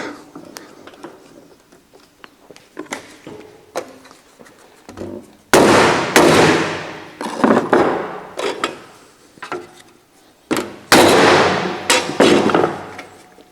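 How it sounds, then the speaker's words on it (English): Several loud, sharp hammer strikes on a wooden block over metal, arriving in two clusters after softer knocking and handling noises. "So I'm going to use a block of wood and a big lump hammer."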